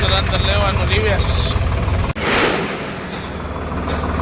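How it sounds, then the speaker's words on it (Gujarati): A tractor engine runs steadily at close range as it reverses into a factory, a loud continuous diesel drone with a brief dropout midway, while someone talks over it. "આપણે ટ્રેક્ટર અંદર લેવાનું રિવેસ"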